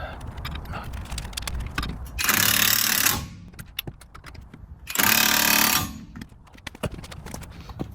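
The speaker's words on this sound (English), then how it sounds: "So I'm going to go ahead and pull the bolts off, get those set off to the side" Wheel hub bolts being removed from a 2011 Jeep Grand Cherokee, with two loud bursts of power-tool whirring about two seconds apart standing out over scattered metallic clicks and clanks of handling.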